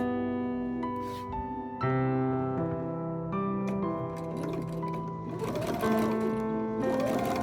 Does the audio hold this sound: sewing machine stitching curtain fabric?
yes